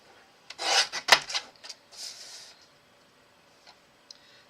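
A paper trimmer slices a piece of paper for a card, a short close rasping slide followed by a sharp click, then a few lighter swishes and faint taps before quiet.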